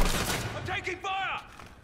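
Gunfire in Call of Duty Modern Warfare crackles in a dense burst at the start, followed by in-game voice chatter and electronic effects, all close and loud.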